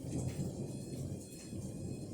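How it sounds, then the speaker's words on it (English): A low, rolling rumble of thunder fills the whole short stretch, steady and fairly loud, blended with the soft hiss of falling rain and no voices. "Okay, there's that thunder."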